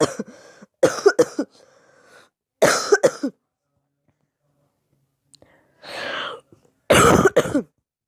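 Several bursts of coughing separated by quiet pauses, close and loud, with a softer breathy throat sound partway through.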